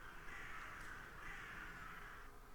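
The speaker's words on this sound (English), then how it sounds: "That's the birds." Crows in the video game The Last Door give two drawn-out, harsh caws over a steady, windy ambient hiss, moderately close and with no talking.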